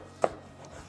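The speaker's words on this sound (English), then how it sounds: "the reason I'm cutting this into like small cubes is because I wanted to cook quickly" A single knife stroke strikes through eggplant on a cutting board as it is diced into small cubes, one brief close knock in otherwise quiet surroundings.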